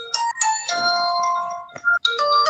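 A mobile phone ringtone plays a bright, melodic electronic tune in short repeated phrases with brief gaps, clear and close, and no one speaks over it.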